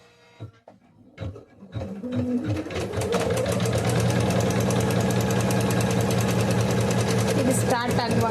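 A sewing machine stitches a blouse, starting after a moment of brief talk and a few knocks, then settling into a steady, loud, rapid mechanical rattle that runs continuously to the end.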